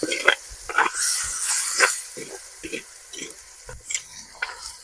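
Chili powder and turmeric are stirred into onions frying in a pan for gongura chicken, with a run of close spatula scrapes and a brief sizzling hiss. There is no clear speech.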